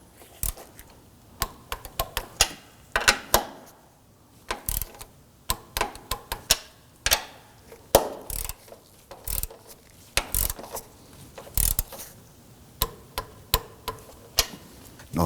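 A ratchet wrench tightens the three upper strut nuts on a 2005-2009 Subaru Legacy front strut and spring assembly, making close, sharp clicking bursts in uneven runs with short pauses between.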